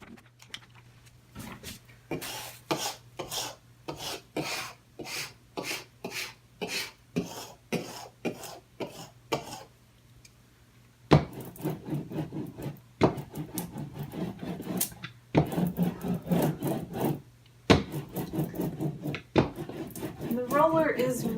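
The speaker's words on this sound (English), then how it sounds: "Now I've got a scraper and a roller to help put pressure onto the vinyl to stick to the wall" A scraper and roller pressing 651 vinyl onto a wall, producing a steady run of short rhythmic rubbing strokes, then denser scraping and pressing sounds with occasional sharp taps, close and fairly quiet, with some talk heard.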